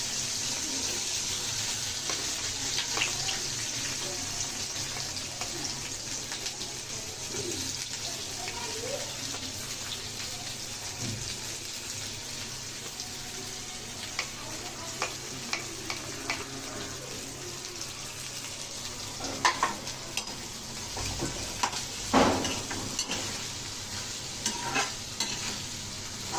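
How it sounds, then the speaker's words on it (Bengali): Bitter gourd frying in a pan with plenty of onion, salt and turmeric: a steady, moderate sizzle runs throughout, with stirring scrapes and clatters that grow busier toward the end. "করলা ভাজা হচ্ছে বেশি করে পেঁয়াজ দিয়ে"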